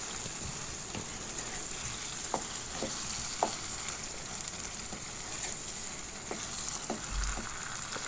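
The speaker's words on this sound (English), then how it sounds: "she added to the gizzard and mix it together" Gizzard and tomatoes frying in a pan while being mixed, a faint steady sizzle broken by soft, scattered scrapes and taps of the spoon.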